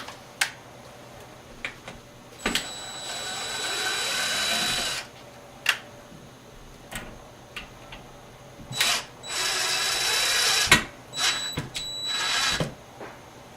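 A power drill drives screws into wall anchors for a coat rack, with two sustained loud whirring runs separated by clicks and knocks, close by and with no talk.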